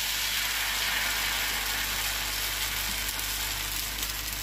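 Ghavna batter for a traditional seven-layer ghavna frying in a pan over medium gas, giving a steady, close, even sizzling hiss with no break and no voices.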